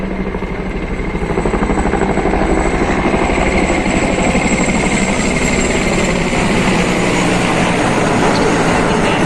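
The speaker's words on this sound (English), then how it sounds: "attack helicopter formation consisting of one Mi-39 in big formation." Loud, steady rotor thrum and engine roar from a formation of attack helicopters, including an Mi-35, passing overhead at a Republic Day parade in India, continuous and droning throughout.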